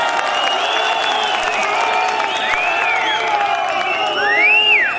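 A large outdoor crowd at a BJP political rally in Uttarkashi near Gangotri claps and cheers without pause, with sharp rising and falling whistles cutting through near the end.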